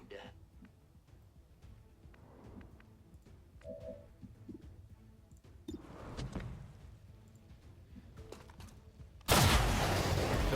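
A shotgun blast in XCOM 2, a sudden loud burst near the end that follows quieter clicks and scattered game sounds, with a soft voice speaking earlier.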